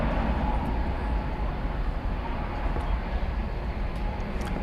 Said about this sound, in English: It's an Airbus A321neo.